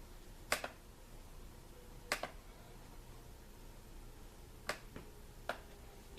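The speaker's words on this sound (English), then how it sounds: "Excuse my computer for being so loud." A computer making sharp, isolated clicks, four or five distinct ticks spaced irregularly over a quiet hum, no talk.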